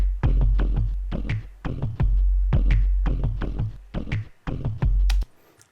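Tribal style percussion opens an electronic song: rhythmic hand-drum-like hits repeat in a steady groove over deep 808 style kicks, ending with a sharp final hit and a short fade.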